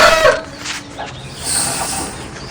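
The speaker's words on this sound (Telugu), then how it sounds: "ఇవన్నీ కనిపిస్తున్నాయా పుంజులు? సో ఇవన్నీ పందెం పుంజులు అన్నమాట" Fighting roosters on a rooster farm cluck nearby, with a short loud call at the start followed by quieter clucks and farm ambience.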